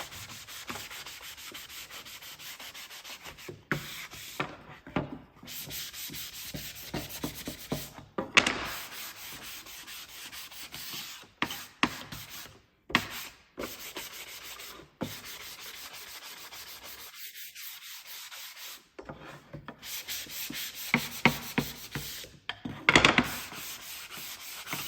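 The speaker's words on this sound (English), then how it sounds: "Give it a quick sand." Sandpaper rubbing over a wooden tea towel ladder rack in quick back-and-forth strokes, close and scratchy, broken by several short pauses between bursts.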